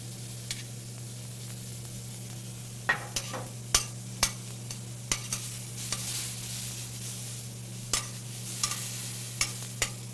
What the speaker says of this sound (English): The potatoes are already cooked, so now I'm just going to put them on the griddle to warm up.